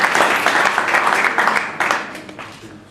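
Applause from a live audience at a community launch event, a full round of dense clapping that rises at the start and then gradually tapers off.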